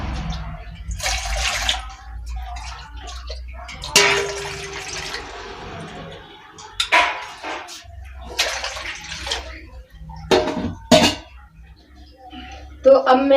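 Water is poured into a pan in a home kitchen to warm it, with splashing bursts broken by pauses and a person talking in between.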